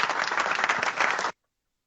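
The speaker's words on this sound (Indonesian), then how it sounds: "Tuh, harus diberi tepuk tangan." An audience in an Indonesian studio interview bursts into dense, even applause that holds steady for just over a second and then cuts off abruptly into silence.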